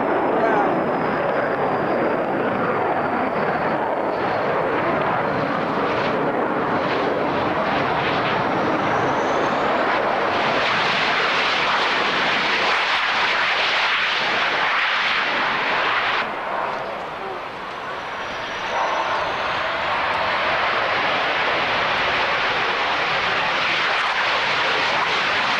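Roaring jet engines of four aircraft in echelon formation pass overhead at an airshow, rumbling continuously with a brief dip in loudness, the noise broad and powerful throughout.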